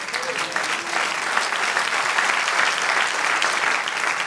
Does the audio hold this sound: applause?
yes